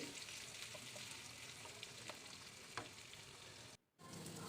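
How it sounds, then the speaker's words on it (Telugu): Onion pieces fry in hot oil with cumin seeds, a close, steady crackling sizzle with light stirring ticks, cut briefly to near silence just before the end. "జీలకర్ర వేగాక ఆనియన్ ముక్కలు కూడా వేసి వేయించుకోవాలి"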